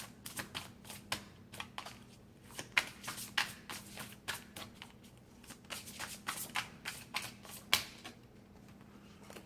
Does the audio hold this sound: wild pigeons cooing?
no